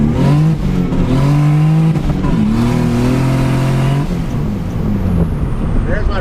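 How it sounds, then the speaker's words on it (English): A Cavalier Z24 engine is run at wide open throttle, revving loud and close as it climbs through the gears, its pitch rising and then dropping at each shift. "There's my first wide open first, second, third rip."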